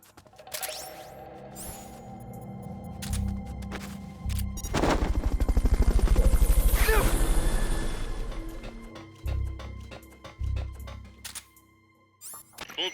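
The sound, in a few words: helicopter in Metal Gear Solid Peace Walker video game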